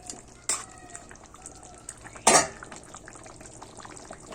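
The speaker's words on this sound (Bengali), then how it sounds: "পাঁচ মিনিট পরে ঢাকনাটা সরিয়ে এটাকে একটু নেড়ে দিচ্ছি" After a pot lid is lifted, a spoon knocks against the pot while chicken is stirred, two sharp metallic clanks over a faint steady simmer, with no voices.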